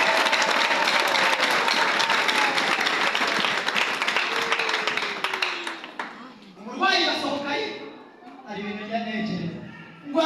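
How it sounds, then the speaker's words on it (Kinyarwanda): A church congregation applauding together during a sermon, dense sustained clapping for about six seconds before it fades, then a preacher's voice speaking. "Tumanyana amashyi mu izina rya Yesu."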